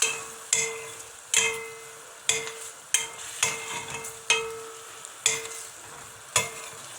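Meat sizzles steadily in hot oil in a pan while a utensil repeatedly scrapes and clanks against it in irregular strokes, close up with no talking.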